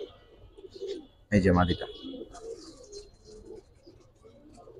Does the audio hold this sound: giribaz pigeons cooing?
yes